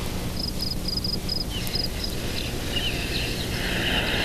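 Repeated high-pitched chirping of a cricket, short pulses in steady rhythm over a dense background of insect and ambient noise, moderately faint.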